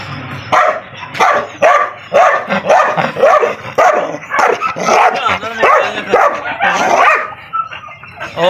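A pit bull dog barks repeatedly in quick, loud bursts close by, some yips and whimpering tones mixed in, continuing without pause.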